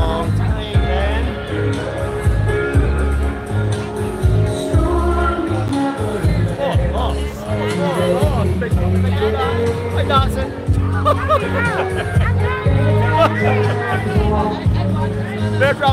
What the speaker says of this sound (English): Big crowd over here.